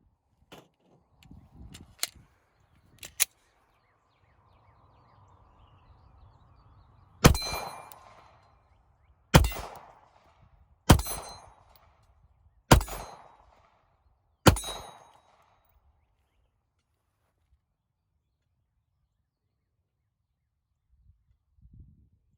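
The trigger pin of a PSA Dagger 9 pistol is worked over and over, giving five crisp metallic clicks spaced one to two seconds apart, close and loud, after a few lighter taps and clicks of handling.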